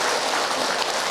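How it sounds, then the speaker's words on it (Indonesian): A quick burst of crowd clapping rises at a women's religious study gathering as the Cikarang group is saluted, a dense wash of many hands, brief and moderately loud. "tepuk tangan buat orang Cikarang"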